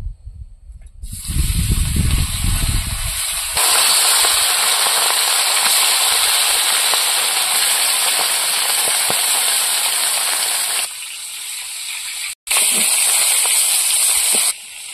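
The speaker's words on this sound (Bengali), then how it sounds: "এবার জাপানি পুঁটিগুলো ভেজে নেব" Loud, continuous sizzling and hissing of small Japanese puti fish frying in hot oil, close up, with brief shifts in intensity and a momentary cut.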